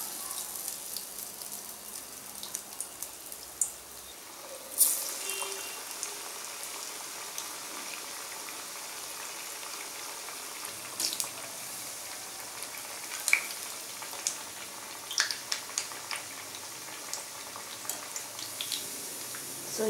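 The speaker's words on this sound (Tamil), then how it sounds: "இப்போ அதை போட்டு பொரிச்சு எடுத்துடலாம்." Cowpea masala vadai deep-frying in hot oil, a steady soft sizzle and bubbling with faint crackles and a few sharper pops, alone without talk.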